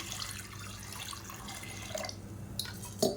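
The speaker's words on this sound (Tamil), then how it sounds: "இப்போ இதில் முங்குற அளவுக்கு தண்ணி சேர்த்துக்கலாம்." Water runs and trickles steadily into a cooking pot of dal curry, with a soft splashing hiss. A couple of faint clinks are heard near the end, and no one speaks.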